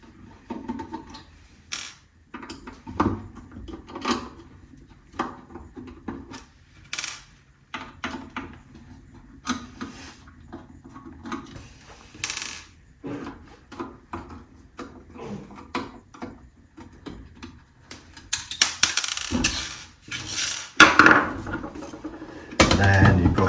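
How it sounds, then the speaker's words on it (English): Screws being removed from the base of an Elekit PS-3249R USB DAC case, with close, irregular metallic clicks, scrapes and small knocks of the screwdriver and metal parts, growing busier and louder toward the end. "And then you've got 4 screws on the base. You have to take them completely out."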